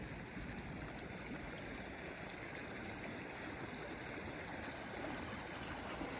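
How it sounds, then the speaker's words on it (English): A mountain brook babbles through a high-country meadow near Mount Holy Cross, Colorado, a continuous close wash of gurgling water with no voices. "I hear some babbling brookiness over here"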